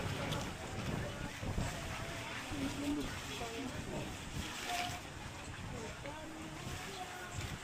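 Steady outdoor wind at night on Aliguay Island buffets the microphone with a low, rushing roar, with water sounds faintly underneath.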